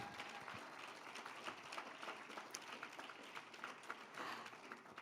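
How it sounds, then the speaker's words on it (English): Applause from an audience for the speakers of a lightning talks session at a tech conference, a steady faint patter of many hands clapping throughout, heard from a distance. "Please give a round of applause to all the speakers once again."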